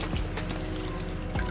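Water pouring off a flat rock into a garden pond, a steady close splashing trickle with brief heavier gushes near the start and end.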